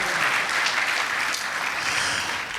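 A church congregation at the Easter Vigil 2025 applauds loudly, dense, steady clapping that fills the whole stretch and fades slightly at the end.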